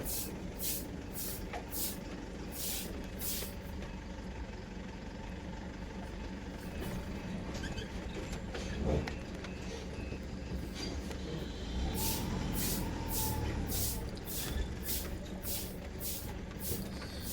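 Truck manoeuvring at a village fair ground in Raigad, Maharashtra, with repeated sharp hissing air brake bursts in two clusters over a steady engine rumble and ambient noise, no talk.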